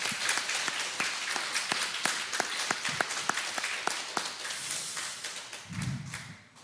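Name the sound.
congregation applause in church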